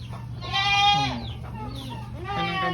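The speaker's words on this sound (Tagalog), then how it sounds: "Yan ang kambing ko." Goats on a farm, among them a mother and her kid tethered by rope, let out loud, wavering bleats close by, one long cry followed by shorter calls over a low background hum.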